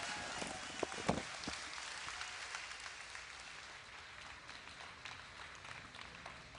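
Audience applauding the StarCraft II tournament champion at the Blizzcon 2010 grand finals, a dense, steady roar of clapping from a large crowd with scattered sharper claps and faint cheers.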